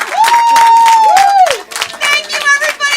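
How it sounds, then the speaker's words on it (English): A theatre audience applauds and cheers after a live show, with loud sustained clapping, shouts and whistles filling the room while voices call out over the crowd. "Give yourselves a round of applause."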